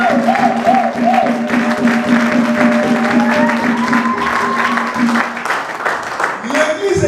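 A church congregation claps and cheers for Jesus Christ, the crowd noise steady and loud, mixed with singing or voices throughout.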